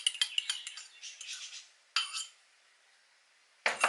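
Beaten free-range egg being mixed into sorrel and beetroot fruit cake batter, a quick run of clinking utensil strokes against a bowl, then a single clack and a final bright clatter, close and fairly soft.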